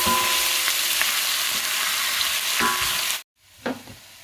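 Chopped onions browning in a pot sizzle loudly as garlic-ginger paste is stirred in, a steady frying hiss with stirring scrapes that cuts off abruptly, then briefly resumes more faintly.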